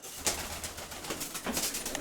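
Pigeons coo softly in repeated low calls over a rustling, noisy background.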